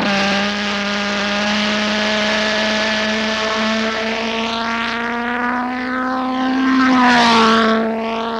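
A jet-engined control-line scale model of the XF-92A Delta jet flies its circle, its engine holding a loud, buzzing harmonic whine that shifts in pitch as it passes nearer and farther, with no talk.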